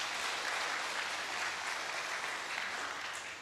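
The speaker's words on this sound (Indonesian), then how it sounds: "Tepuk tangan dong buat kita semua nih" An audience claps steadily through a vihara inauguration and anniversary celebration in Surabaya, a dense, sustained wash of applause from many hands at moderate distance.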